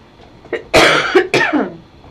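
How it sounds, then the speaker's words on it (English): A few harsh, raspy coughs burst out close by, two or three in a quick cluster, loud against a quiet room. "so sorry to cough like that in front of you guys"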